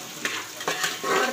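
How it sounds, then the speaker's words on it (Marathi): Curry leaves fry in oil for a soybean khichdi biryani, a soft sizzle broken by three quick scraping stirs of a spoon against the pan, up close. "व त्याला चांगल्या प्रकारे एकजीव करून घ्यायचं व तळून घ्यायचं."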